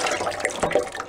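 Tap water runs steadily, splashing for soaking a snare drum whose shell is held together with animal glue; a continuous close broadband rush with small surges, no voices.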